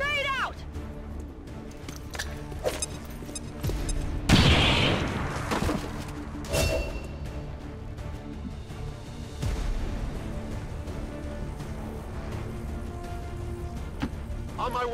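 A grenade blast and gunfire in a video game: one loud boom near the middle, with scattered shots and heavy impacts around it and voices talking over the action.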